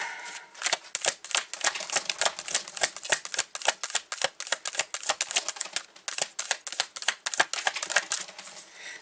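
Rapid, continuous scratchy scuffling of a pet rabbit on a plastic mat, small paws shuffling and scrabbling close by, with brief pauses; no voices.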